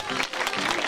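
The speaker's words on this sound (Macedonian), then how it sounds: "Голем аплауз." An audience at an emigrant gathering in Glogji in 2006 breaks into a short, dense burst of clapping that fills the whole second.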